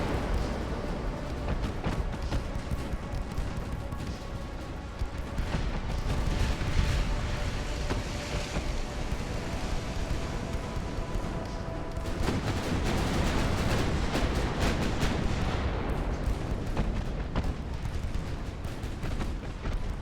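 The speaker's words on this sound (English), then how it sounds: "A lot of gunfire on these poor cruisers." Dense, continuous barrage of heavy naval gunfire at cruisers in the video game Ultimate Admiral: Dreadnoughts, booms and blasts rolling over each other, loud and unrelenting throughout, with a louder cluster of shots partway through.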